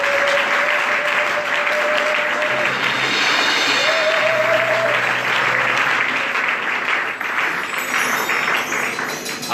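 A church congregation cheers and claps in sustained, dense applause, with voices calling out over the clapping throughout at a steady loud level.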